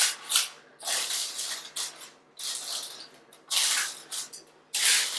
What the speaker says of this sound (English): I'm going to do a little spray.